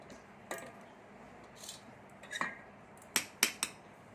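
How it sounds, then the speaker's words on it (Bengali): A knife slicing through washed pointed gourds (potol) on a board, several sparse, crisp cuts and taps, close and fairly quiet, with a cluster of sharper strikes near the end. "এবার পটলগুলো আমি কেটে নেবো একটু"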